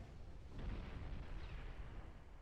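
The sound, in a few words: naval gunfire shells in Ultimate Admiral Dreadnoughts video game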